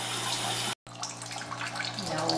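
Water pours steadily from a tap into the tub of a portable compact washing machine, a close, bright rushing stream that cuts out briefly and then resumes.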